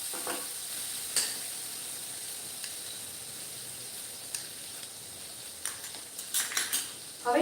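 Spices sizzle in a pan with green ginger-chili paste, turmeric and salt for a mung bean curry. The frying hiss is quiet and constant, broken by scattered clinks and scrapes of a spoon stirring, with more of them toward the end.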